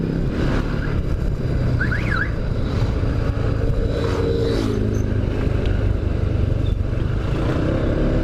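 Steady engine drone and road rumble from a motorcycle crawling through a midday traffic jam on Jalan Raya Cijambe in Subang, with surrounding traffic noise and a brief warbling horn-like chirp early on.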